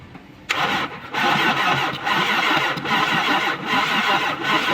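A Toyota Tamaraw FX with a 7K engine, overheated and due for overhaul, cranks and catches abruptly, then settles into a loud, steady running roar nearby with slight rhythmic pulsing.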